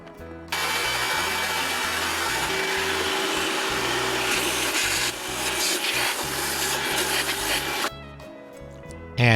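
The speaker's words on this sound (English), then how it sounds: "Then I'll vacuum the standing water inside the pump." A wet vacuum roars loudly and continuously as it sucks standing water from inside a pool pump, with gurgling, rattling suction noise that shifts in pitch before cutting off.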